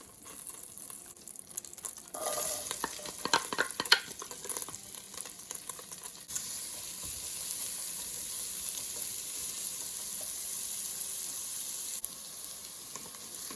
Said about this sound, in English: now we're going to put our chopped onions in here